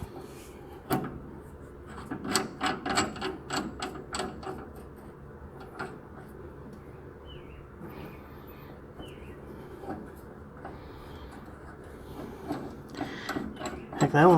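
Tie rod end removal tool worked on a car's steering linkage, giving a run of sharp metallic clicks and scraping knocks near the start, then quieter mechanical rubbing and a few more clanks toward the end.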